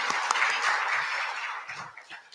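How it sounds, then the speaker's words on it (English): An audience at a Gaza-focused community event applauds in a dense, sustained burst of clapping that gradually fades out near the end, with no voices over it. "we should give them a round of applause"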